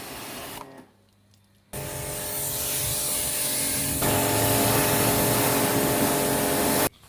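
Water sprayed onto a freshly waxed bike as a steady, loud hiss that runs for several seconds, broken by a brief pause near the start and cut off abruptly at the end.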